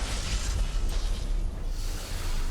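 A lightning strike in the space strategy game Battlefleet Gothic: Armada 2 rumbles as a continuous explosive blast, dense and booming low with crackling bursts throughout.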